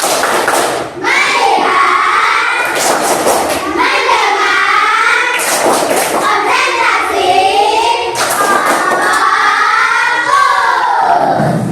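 Children in a maths classroom perform another rhythmic clapping chant, sung and shouted phrases broken by repeated bursts of group clapping and thumps at a steady, patterned pace.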